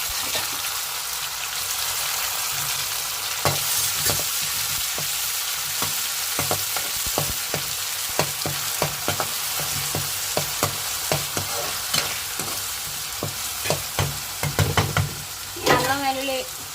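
Ginger, garlic and coconut paste sizzles in a pan with fried onions and green chillies for a mutton liver fry, while a spatula scrapes and clicks in an irregular stirring rhythm. A brief voice comes in near the end.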